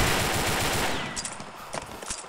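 INSAS Pump Jack gun firing in the Combat Arms video game, a fast, loud burst of rapid automatic shots that ends about halfway, followed by a few scattered sharper reports.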